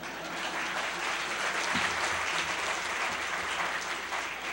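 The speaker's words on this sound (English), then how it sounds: "Can we have another round of applause for the brewers while they go prepare for us?" Audience applause at an annual sake tasting event, honoring sake brewers; steady, dense clapping from a sizable crowd fills the whole stretch at an even, loud level with no voices over it.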